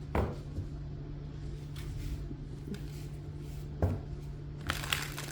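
Tarot cards are shuffled in a few quick riffling bursts, crisp papery flutters separated by pauses, over a low steady hum.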